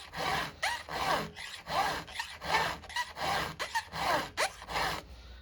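Hand file sharpening a STIHL HEXA chainsaw chain, steady rasping strokes in a regular back-and-forth rhythm, close and fairly loud, about ten light passes in a row.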